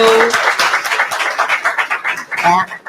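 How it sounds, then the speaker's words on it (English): Audience applause at a panel discussion, a brief burst of clapping from a crowd that quickly thins out into scattered claps, with voices mixed in toward the end. "Can we have a round of applause?"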